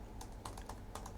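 Quick, light keystrokes on a computer keyboard, about eight taps in a short irregular burst over a steady low background hum, typing a web search, with no voices.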